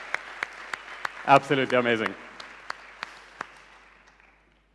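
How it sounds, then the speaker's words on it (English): A conference audience at iGaming NEXT Valletta 2023 gives a thin round of applause, made of sparse, distinct claps that fade out, with a short spoken comment partway through. "So please join me in giving her a round of applause."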